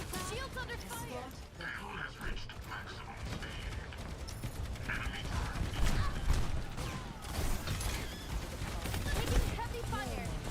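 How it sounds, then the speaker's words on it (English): Rapid gunfire pounds against shields in a tank video game, dense continuous bursts of shots close and loud, with voices talking over the barrage. "Shields under fire!"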